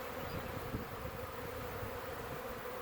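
A swarm of honey bees buzzes as a steady, dense drone, many insects humming together at a moderate distance with no pauses or voices.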